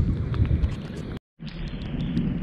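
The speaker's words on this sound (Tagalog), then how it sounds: "Nakakatakot, nagkakulog-kulog kasi." Low rumbling thunder rolls during rain at sea, loud and continuous with wind buffeting the microphone, briefly cutting out before resuming.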